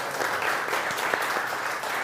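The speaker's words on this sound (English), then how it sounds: "In the world that I come from, we show love with applause." Steady audience applause at a conference talk, a dense even wash of clapping from a crowd, fairly close and continuous for the whole moment.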